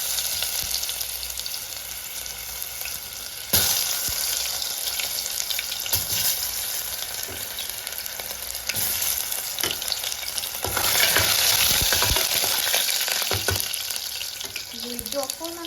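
Potato pieces sizzle and crackle loudly in hot mustard oil with caramelized sugar in a wok, a steady frying hiss with stirring scrapes throughout and no talk.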